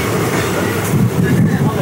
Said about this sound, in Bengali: তারাপীঠ রোড আমাদের ট্রেন ছেড়ে বেরোচ্ছে